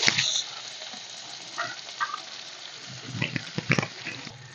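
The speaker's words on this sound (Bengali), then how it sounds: "তেলের মধ্যে দিয়ে দিলাম পেঁয়াজ কুচি" Chopped onion hits hot oil in a pan, where fish heads were just fried, giving a bright continuous sizzle with crackling bursts and a few stirring clatters, close and without speech.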